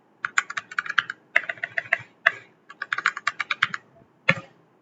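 Typing on a computer keyboard to enter a word into an Excel pivot table, with bursts of rapid, crisp key clicks in a few runs, close and fairly loud, alone without talk.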